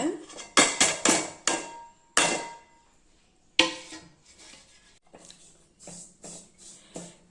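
Black kavuni rice flour roasting in a metal pan: a spoon scrapes and clanks against the pan in quick bursts, then a pause, then softer, scattered scraping strokes.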